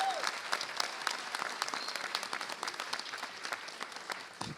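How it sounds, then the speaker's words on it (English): A crowd applauds its labor allies at a New York City celebration of the right to counsel law's passage, with dense, steady clapping filling the whole stretch before tapering at the end. "Let's give our labor allies a big round of applause"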